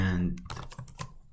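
Quick, close keystrokes on a computer keyboard as code is typed, a short burst of several clicks that follows a brief tail of speech.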